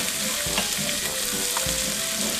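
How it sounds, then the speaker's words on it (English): A spoon stirs green chile stew in a pot over heat, with scraping strokes at an irregular pace over a continuous close sizzle and bubbling of the cooking food, and no talking. "So I just want to give that a stir around our pot"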